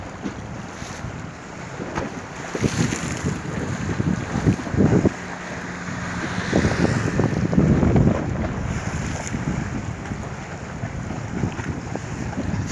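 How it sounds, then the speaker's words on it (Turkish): Strong, steady winter storm wind roars at the seashore of a marina harbour in Marmaris, Turkey, buffeting the microphone, with rough waves and water churning throughout. "Yine deniz fırtınalı."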